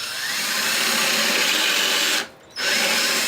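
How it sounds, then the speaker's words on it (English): Power drill fitted with a Forstner bit boring holes, a loud steady high-pitched whine running continuously with one brief pause near the end before resuming. "put your Forstner bit on your drill and drill your holes so that your washer fits perfectly"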